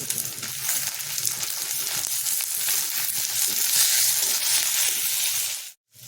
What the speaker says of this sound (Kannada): ಇದಕ್ಕೆ ಮೆಣಸಿನ್ಕಾಯಿನೂ ಹಾಕ್ಕೊಳ್ಳೋಣ ಹುರಿಯೋದಕ್ಕೆ ಮತ್ತು ಕರಿಬೇವು ಟೊಮೆಟೊ ಹಾಕಿ ಹುರಿಯನ್ನು